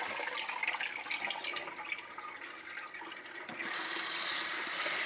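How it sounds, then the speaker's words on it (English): Running water pours steadily while dried vegetables are rinsed, a continuous splashing stream that grows louder and brighter toward the end. "And then rinse them really well"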